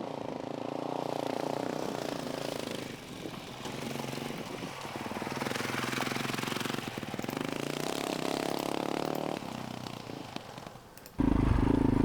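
A 2022 Honda CRF450RL dual-sport motorcycle is ridden, its engine droning and rising and falling steadily along with wind rumble, and a louder burst comes near the end.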